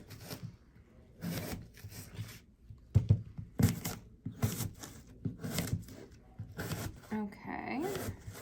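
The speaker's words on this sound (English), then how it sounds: "we'll cut just some slices of apples" A knife slices through fresh apples on a board, with repeated crunching, rasping cuts in short bursts and a few sharp taps, close and fairly quiet, while someone talks.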